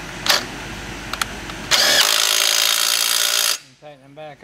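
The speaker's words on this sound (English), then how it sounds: "I use my little impact gun again." A small impact gun tightens strut nuts on a 2012 Ford Escape front strut assembly, first as a few short taps, then as one loud continuous buzzing burst of about two seconds, followed by a voice speaking nearby.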